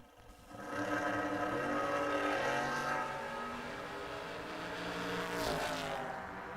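Drag race cars launching side by side, a Roadster among them, at a memorial race event; a loud sustained engine roar with harmonic whine that holds steady, then surges again near the end, fairly close.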